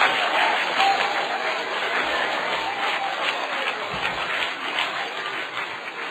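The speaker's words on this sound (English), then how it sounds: "let's clap our hands and praise him for the Holy Ghost" A church congregation claps their hands in praise, a steady wash of many hands that holds at an even level throughout with no distinct individual beats.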